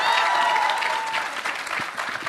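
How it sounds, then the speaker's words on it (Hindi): Studio audience at a televised Hindi political debate applauds steadily for two management students, a dense sustained clapping that fills the whole stretch without pause. "दोनों मैनेजमेंट के स्टूडेंट्स हैं, तालियां बजाइए भाई एक बार।"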